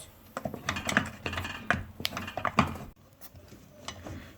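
Flour being mashed and roasted with a wooden ladle in a pan for a Turkish hanım göbeği dessert: irregular close knocks and scrapes, uneven taps with short pauses, fairly loud, without talk.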